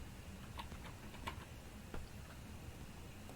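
Keyboard typing during a Facebook ad campaign setup, a short burst of soft, irregular key clicks at moderate distance over a faint steady background hiss.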